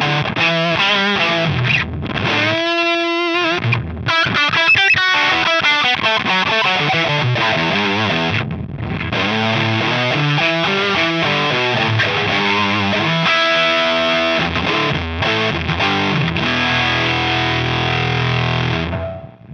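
Electric guitar through a Pettyjohn Electronics Fuze distortion/fuzz pedal on its nuke setting, heavily saturated, buzzy chords and sustained notes played alone, with short pauses and a long ringing passage near the end.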